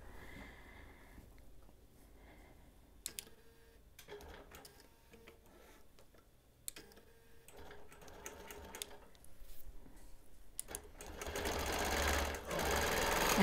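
A sewing machine quilting mixed fabrics with a jeans needle: a steady mechanical whirr with ticking clicks, running quietly at first and growing louder and faster toward the end.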